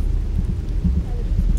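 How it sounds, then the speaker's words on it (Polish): Steady rain in the survival game H1Z1 Just Survive, a continuous low rushing hiss with soft pattering bumps, moderately loud and unbroken throughout the short stretch. "Jeszcze deszcz leje."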